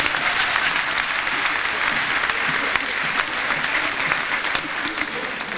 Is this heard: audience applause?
yes